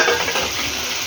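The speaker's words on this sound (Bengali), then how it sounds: "চিংড়ি মাছটা দিয়ে দিলাম।" Prawns fry in a pan with a dense, steady sizzle and crackle, heard close up and without voices.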